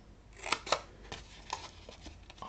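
A few crisp snips of scissors cutting through paper for a card, close by, with two sharp cuts early and lighter clipping sounds after.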